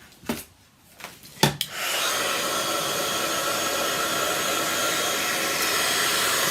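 Steady broadband blowing hiss of a craft heat tool warming white cardstock, starting after a few soft handling knocks and holding evenly at close range to the end.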